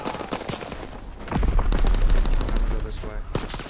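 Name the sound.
gunfire in the video game Call of Duty: WWII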